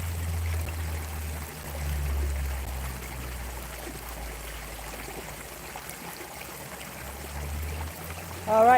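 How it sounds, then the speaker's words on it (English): A stream near Halton, Lancashire, flows steadily with a continuous close babble and trickle, with low rumbling underneath and no talk. "Let's listen to a bit of water"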